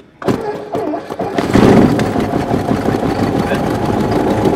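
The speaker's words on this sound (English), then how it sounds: "as soon as I start the engine, the first thing I'm going to look at is the oil pressure" A Cessna 172 aircraft engine cranks and catches with a loud burst, then runs on at a steady rough idle close by, with a bit of background chatter.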